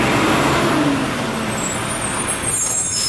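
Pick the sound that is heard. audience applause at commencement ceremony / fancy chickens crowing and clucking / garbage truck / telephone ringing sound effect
garbage truck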